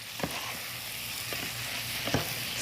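Frozen corn and lima beans sizzle in a hot pan under a steady broadband crackle, with three soft scraping strokes of a spoon stirring them together; no voices.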